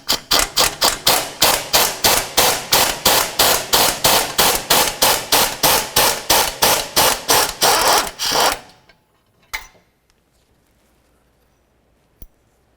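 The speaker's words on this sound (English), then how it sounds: "To remove each of these, I'll use a 17mm socket." Rapid ratcheting from a 17mm socket on a ratchet backing out the exhaust mounting bolts under a 2004-2006 Scion xB, a fast even series of loud clicks for about eight seconds, then a single clack and a faint tap.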